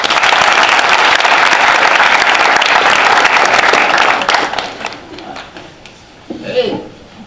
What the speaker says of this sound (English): Let's give a round of applause to civil rights activist Deacon Miller.